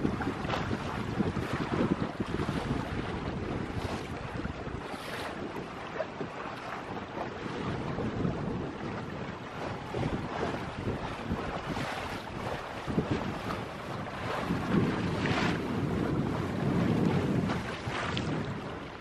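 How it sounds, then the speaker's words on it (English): Steady wind rushes past the microphone while a homemade sailboat moves across open water, with water splashing and hull noise underneath; the roar stays fairly constant, swelling slightly near the end, and no one speaks. "the wind did begin to cooperate"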